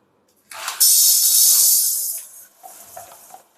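Urad dal poured into a hot kadai after roasting rice, sizzling as a loud hissing rush that holds for about a second and a half and then fades to faint crackles.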